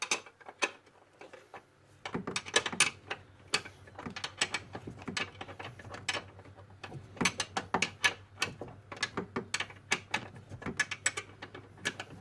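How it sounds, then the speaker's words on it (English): Spanner ratcheting a bolt on a Hyundai i35's front spring suspension: quick irregular metallic clicks and ticks in bursts, close but fairly quiet, with short pauses between runs. "And this last one will have to be with a spanner."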